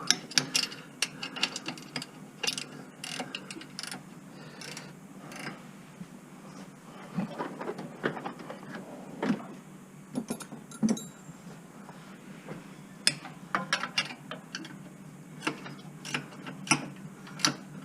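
A 14 mm socket on a ratchet clicks in quick bursts while working on a Nissan Murano exhaust flex pipe, with close metallic ratcheting, clinks and pauses repeating throughout.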